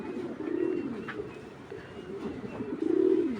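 Bangladeshi Giribaz pigeons coo close by, two soft throaty rolling coos, one early and one near the end, over a quiet room background.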